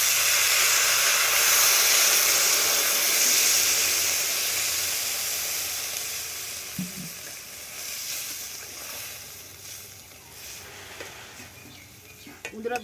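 Water hits a hot pan of colourful sautéed summer vegetables, setting off a loud, close hiss that slowly fades over several seconds, with a few stirring knocks near the end.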